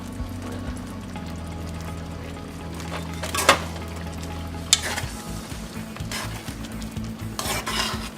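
Curry lentils with cilantro stirred in a pot, a low simmering hiss under a few sharp utensil clinks against the pot, close by, with no talking.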